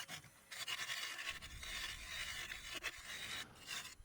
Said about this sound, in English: Half-inch bowl gouge now, just to give a better surface on the outside of this bowl.